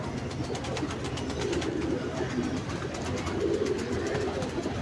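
Many caged pigeons at a large pigeon farm coo continuously, soft overlapping low calls from several birds blending into a steady murmur.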